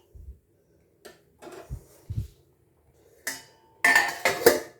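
A pot of basanti polao, a sweet yellow rice dish, gets its lid in a home kitchen: scattered metal clinks and scrapes, then a sharper clatter and rattle as the lid settles near the end. No one speaks.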